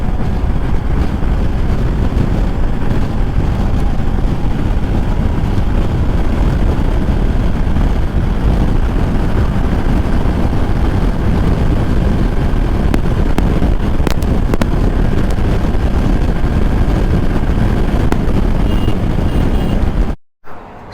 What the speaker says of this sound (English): there is quite a bit of wind blast coming onto my chest and helmet